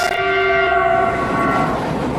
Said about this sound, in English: clash of the tracks